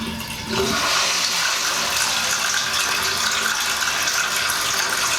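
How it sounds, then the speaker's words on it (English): A household toilet flushes during a lever replacement, a steady loud rush of water that starts about half a second in and carries on to the end, with faint mechanical clicks underneath. "Let's try flush."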